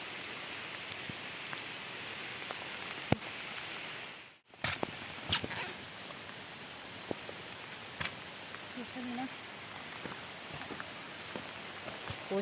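Heavy rain falls steadily through a forest while out gathering wild bamboo shoots, a dense continuous hiss of drops on leaves and ground with scattered louder pattering, briefly cut off near the middle.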